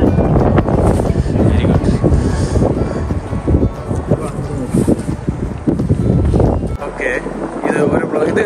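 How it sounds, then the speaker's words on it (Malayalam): Strong wind gusts across an open university campus in Hertfordshire, a steady rushing roar buffeting the microphone throughout, with people talking faintly beneath it. "നല്ല കാറ്റുണ്ട്."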